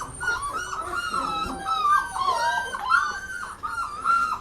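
A litter of small puppies shut in a cardboard box whimper and yip continuously, overlapping high-pitched cries and squeals heard close and fairly loud with no talking.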